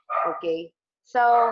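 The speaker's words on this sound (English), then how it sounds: "I have 14 dogs in the house I have to work-life balance with." Several dogs in a house bark in short, loud bursts, two close barks and then another after a brief pause. A person speaks alongside them.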